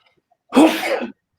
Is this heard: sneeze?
yes